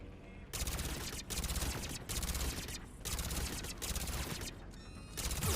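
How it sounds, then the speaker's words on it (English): Repeated heavy gunfire bursts in the video game Mass Effect 3, with sniper rifles among the enemies, loud and near, several volleys separated by brief gaps over a steady game soundscape. "Oh, that's a sniper."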